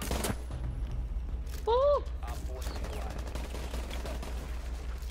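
Bursts of rapid gunfire from a shooter video game crackle at moderate volume across the clip, while a voice briefly whoops over them.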